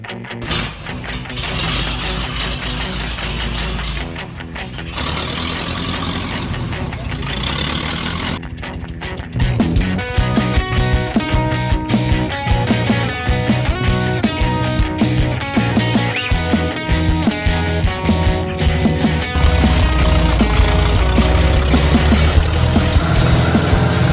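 Old school hot rod engines, including a 1930 Ford Model A, idle together at a drag racing event, a loud, lumpy mechanical rumble with rapid rhythmic pulses that grows busier and louder partway through.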